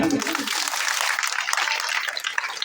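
An audience claps together during a religious katha: a dense, continuous patter of many hands from start to finish, with crowd voices mixed in.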